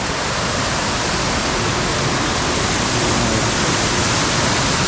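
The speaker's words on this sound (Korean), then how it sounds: "그냥 물소리가 너무 요란해서 한번 왔는데" Loud, unbroken roar of rushing water from a mountain valley stream on a rainy autumn ridge hike, a dense hissing torrent close by with no pauses or voices.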